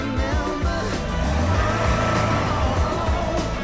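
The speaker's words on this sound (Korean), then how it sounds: "엔진 소리가 독특해졌다. RPM 좀 올려봐봐." A Hyundai Santa Fe Calligraphy engine hums and revs continuously at close range, a steady mid-pitched drone with slight rises in intensity throughout, with an unusual slurping note.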